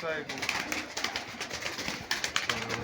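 Pigeons coo softly in low, rolling calls, close by, with a bit of rustling and a voice in the background.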